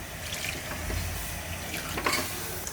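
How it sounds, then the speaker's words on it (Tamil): Water pours and trickles into a pot of sautéed spices for mutton bone curry, a soft continuous splashing close by with a brief louder gush near the end. "இப்போ இதுக்கு தேவையான அளவுக்கு தண்ணி ஊற்றிக்கலாம்."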